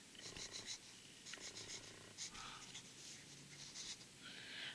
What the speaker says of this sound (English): So I'll write my name and see